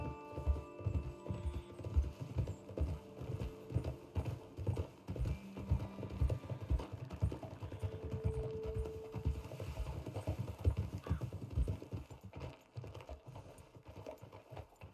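Horse hooves clip-clop steadily on a trail in the video game Red Dead Redemption 2, a close, rhythmic plodding of several strides with a low hum beneath and no talking.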